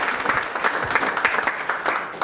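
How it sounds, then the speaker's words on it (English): A conference audience applauds for the speaker Stephanie Pomboy, a dense, even wash of clapping lasting about two seconds, fairly close and loud, with no clear voices on top. "let's give her a round of applause"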